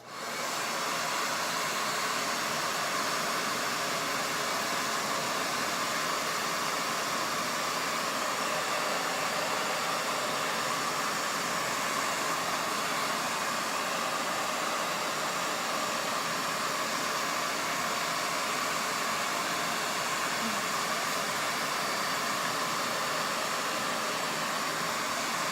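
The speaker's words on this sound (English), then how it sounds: "Next, we'll take your blow dryer." A blow dryer runs continuously on a glued-down quick weave wig, with a loud, steady airy roar that holds unchanged throughout, nothing else heard.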